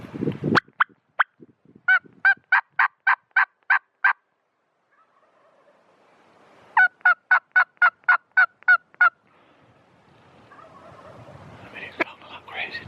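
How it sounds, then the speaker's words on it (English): A wild Merriam's turkey gobbles in two rapid, rattling bursts outdoors on a mountainside. Each burst is about eight quick pulses, fairly clear, with quiet gaps and rustling near the end. "he's gobbling like crazy now"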